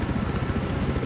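Rapid rotor chop of a helicopter in the video game Battlefield Hardline, a loud, close, pulsing low thrum over a dense engine roar that holds steady for about a second.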